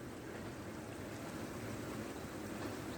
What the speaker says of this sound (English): we have some running water